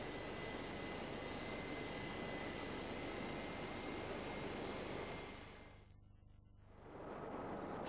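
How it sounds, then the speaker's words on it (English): A 36-grit dome rasp buffs the inner liner of an off-the-road tyre during repair, making a loud, steady grinding roar. The roar drops away briefly near the end and then starts again. "The inner liner is now buffed using a 36 grit dome rasp."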